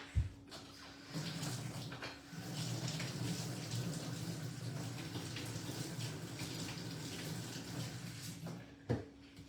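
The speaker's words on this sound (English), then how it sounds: "Cold water right away." Cold water runs from a tap in a steady, close rushing stream that starts after a couple of knocks and then stops with a clunk near the end.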